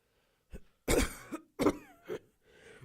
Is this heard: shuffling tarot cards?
no